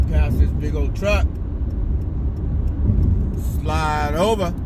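A car drives past a big truck on a town road, with steady low road and engine rumble throughout and people talking over it at several points.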